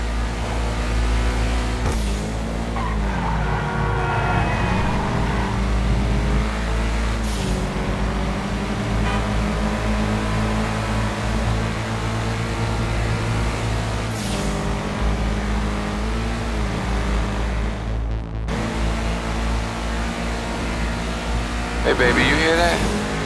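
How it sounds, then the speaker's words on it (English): A car engine in GTA Online drones steadily on the freeway, a continuous low hum with shifting revs and passing traffic swells, while people talk over it throughout. "The sound that engine makes on the freeway."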